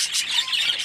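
A big, heavy pet bird squawks in a breeding cage, giving one short, harsh, high-pitched cry at close range.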